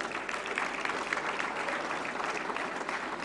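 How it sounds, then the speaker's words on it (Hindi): An audience at the 68th National Film Awards ceremony applauding in honour, a dense, continuous roar of many hands clapping, full and even throughout with no talk. "जोरदार तालियां।"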